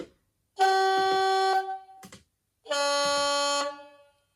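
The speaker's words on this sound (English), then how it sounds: "you do get different horns depending on which direction you're going in" Two long blasts from the DCC sound horn of an Accurascale DRS class model locomotive, each a loud, bright multi-tone note of about a second with a short gap between, then silence.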